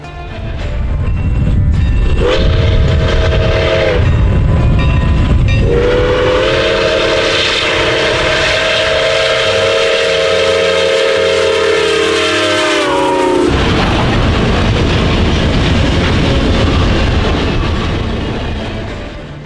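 Milwaukee Road 4-8-4 steam locomotive No. 261 rumbles and chuffs loudly, then sounds its deep steam whistle in a short toot and one long sustained blast before the running noise carries on.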